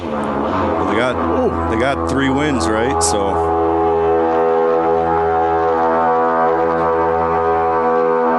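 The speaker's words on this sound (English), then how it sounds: "I think there's one more. It's a Viking horn," Another Viking horn blast on a sports show, a deep sustained foghorn-like drone that runs for the whole eight seconds, loud and close, with someone talking over its first few seconds.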